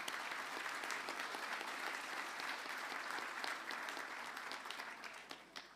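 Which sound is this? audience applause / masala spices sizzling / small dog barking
audience applause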